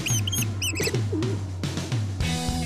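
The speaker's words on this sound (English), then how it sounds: "Today we've got the dubious honor of bringing rats and pigeons to the set." Pigeons coo softly on the set of a zombie TV series, with bright chirping bird calls over a steady low hum; the calls recur in short bursts and stay fairly close.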